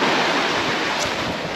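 Ocean waves wash onto a beach in Portugal, a steady broadband roar of surf with wind buffeting the microphone, loud and continuous with no talk.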